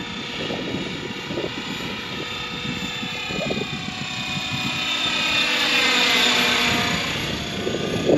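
A radio-controlled scale model helicopter, a 470-size AH-1 Cobra running on a 5200 mAh battery, flies steadily, its rotor and motor whine holding a continuous hum that swells slightly louder toward the end with no one speaking.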